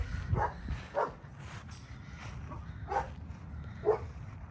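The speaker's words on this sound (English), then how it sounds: "Oh my God, there's a dog there." Dog barking on a farm in sunny California, a few distinct barks spaced out at moderate distance over steady outdoor background noise.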